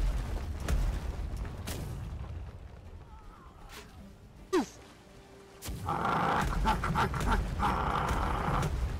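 Players in an online shooter game imitating dog noises, with rough growling and barking voices among gunfire booms, then louder mixed shouting and chatter toward the end.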